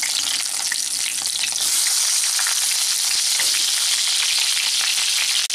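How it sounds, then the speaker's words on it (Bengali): Pointed gourd pieces sizzle and crackle loudly in hot mustard oil with a little salt, a close, continuous frying hiss with scattered pops and stirring, with no talking. "এখন এই তেলের মধ্যে পটলগুলোকে ভাজার জন্য দিয়ে দিলাম।"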